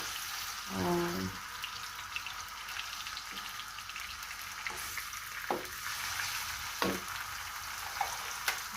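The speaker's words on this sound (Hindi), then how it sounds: "इसे ऑयल में थोड़ा सा भून लेंगे ताकि इसका कलर थोड़ा सा चेंज हो जाए" Food frying in oil in a home kitchen, a steady quiet sizzle with a few brief louder bursts and clinks as it is stirred, no voices.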